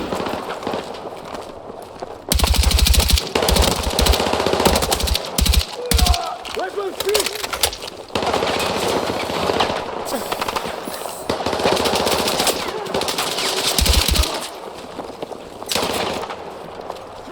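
Sustained machine gun fire during a night raid mission in Battlefield 6, long rapid bursts close and loud with brief gaps, mixed with game combat noise and some voices talking.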